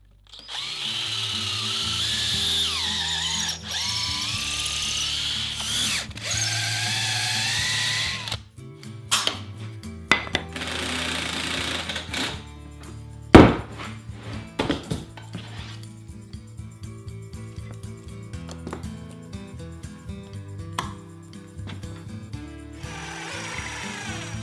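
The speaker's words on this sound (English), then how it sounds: "I'll put the face frames together using the Craig jig" Power drill boring pocket holes with a Kreg jig for wooden cabinet face frames: a loud, steady whirring drive for several seconds, then clattering, knocking and intermittent short drill bursts as the work continues, with no talking.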